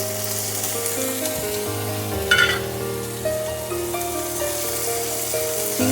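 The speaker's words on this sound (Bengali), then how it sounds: "তেল হয়ে গেছে, আমি চিংড়ি মাছগুলো দিয়ে দিলাম।" Shrimp drop into hot oil and fry lightly for a Bengali dish, giving a loud, steady close-up sizzle. A brief clatter of stirring cuts in partway through, and no one speaks.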